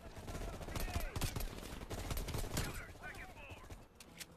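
Rapid AK rifle fire in Call of Duty Black Ops Cold War, dense bursts of loud gunshots with overlapping combat noise, steady and intense across the whole stretch.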